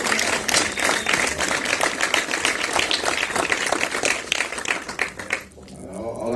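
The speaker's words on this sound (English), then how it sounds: "So can we just give a little round of applause?" An audience at a film Q&A claps in a lively round of applause, many sharp overlapping claps at steady loudness that fade out abruptly near the end, leaving quiet room tone.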